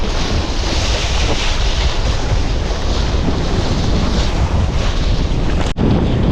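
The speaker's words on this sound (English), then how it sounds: "The wind is very on and off," Strong gusty wind buffets the microphone during a kitesurfing session on a Flysurfer Sonic 5 foil kite over water, a loud continuous rushing roar with a brief dropout near the end.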